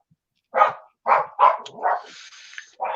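A dog barks in four or five sharp, close bursts with short gaps, sounding a little excited, and then a brief higher whine follows. No one speaks.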